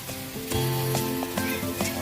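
Hot dogs sizzle on a grill with a steady, close crackle and hiss, a few sharper pops standing out over the continuous frying noise.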